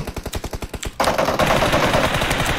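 Video game gunfire aimed at enemies: a rapid, steady string of loud close shots, followed by a dense, sustained burst of shooting and clatter.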